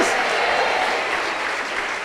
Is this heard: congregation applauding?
yes